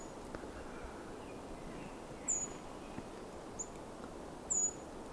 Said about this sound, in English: There's also a black and white warbler here, too.